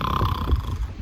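A voice imitates snoring in a short, soft, rasping snore with a low rumbling breath, heard alone and close.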